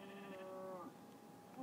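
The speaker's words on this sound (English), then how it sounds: "Sheep. Sheep. Sheep." Sheep bleating in a survival video game, a few wavering harmonic bleats in quick succession with game ambience underneath, fairly close and clear.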